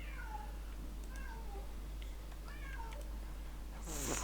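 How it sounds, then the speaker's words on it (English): A cat meows several times in a row, each call a clear rising-and-falling whine, fairly close over a low steady hum, with a louder rustle or movement at the very end. "Freaking cat."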